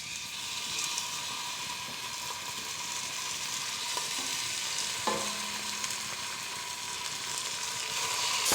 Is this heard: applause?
no